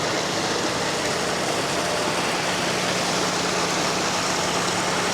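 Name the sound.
noisy bus engine idling nearby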